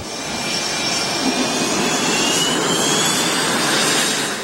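South Korean-made FA-50 fighter jets roar steadily at an air base in Pampanga after landing, a loud continuous broadband engine whine and rush filling the whole clip without any talk.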